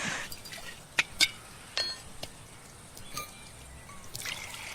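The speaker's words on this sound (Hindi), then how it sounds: "शरबत बन रहा है, पी लेना।" Sharbat being mixed in a glass at home: a few sharp, close glass clinks and brief liquid trickles come in quick bursts over a faint quiet background, with no talking.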